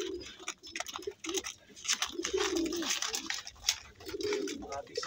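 A pet racing pigeon coos close by in repeated low, throaty phrases over a steady hiss of background noise.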